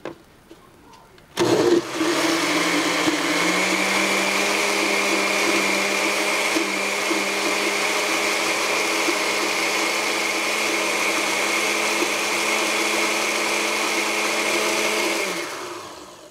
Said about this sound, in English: we'll blend that a little bit more